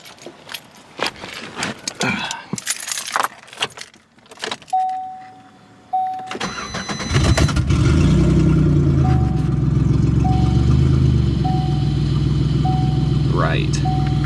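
A Chevy Impala engine cranks and fires up after some key jangling and a repeating chime, then settles into a steady, loud running rumble as the car drives off, with a voice speaking briefly over it.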